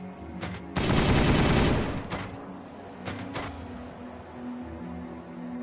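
Heavy gunfire from Dark Angels and Ultramarines units in a Warhammer 40,000 video game battle: a short burst, then a loud sustained fusillade about a second long, followed by scattered further shots over a low rumbling battlefield din.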